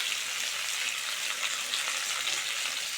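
Pumpkin and potato pieces fry in a pan, making a dense, even, close sizzle that holds steady throughout without pauses.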